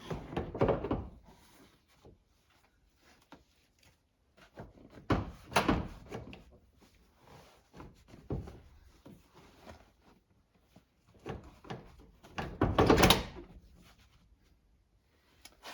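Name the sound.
Toyota Sienna Hybrid third-row seat clipped into its latches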